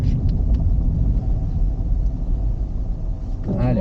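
Car engine in a driving lesson rumbles steadily as the learner eases off the accelerator and begins braking, a continuous low drone filling the cabin, with a brief voice near the end.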